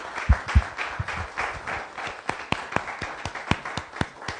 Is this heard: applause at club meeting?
yes